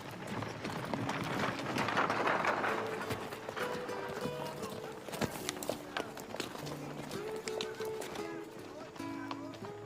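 Horse hooves clip-clop in a steady trotting rhythm in a western movie scene, amid busy background noise and music, with a few sharp knocks and occasional voices.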